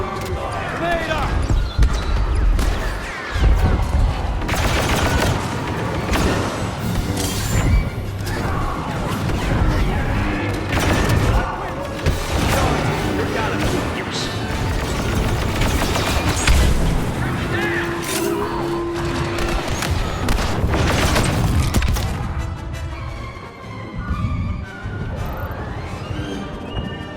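Grenade explosions and rapid gunfire during a Star Wars Battlefront battle on Tatooine, with dense, repeated booms and shots throughout and in-game voices calling out over the fighting.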